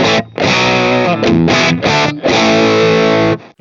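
Electric guitar played through an amp with classic British-style distortion, loud, thick chords sustained in several strummed bursts with brief gaps between them, close and alone, with no talking.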